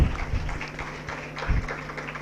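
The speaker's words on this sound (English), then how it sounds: "A huge round of applause." Audience applause at an international management conference at the Prestige Institute of Management and Research, following a felicitation: moderate, somewhat distant clapping that swells briefly midway, over a low hum.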